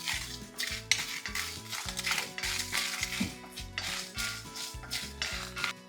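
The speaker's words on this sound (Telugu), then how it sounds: "ఇలా కడాయిలో వేసి వీటిని మంచిగా ఫ్రై చేయాలన్నమాట" Masala spices fry in a hot kadai and are stirred continuously, a busy metallic scraping and clattering of the spoon against the pan over a steady sizzle, with no talking.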